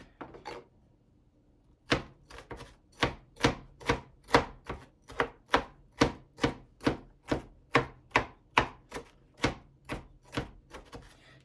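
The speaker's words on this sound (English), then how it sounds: "So I'll carry on cutting, and then, all right, so chopped everything up." Peppers are rough-chopped on a board for empanada filling, with about twenty sharp knife strikes in a steady, even rhythm after a brief pause, close and clear with no talk.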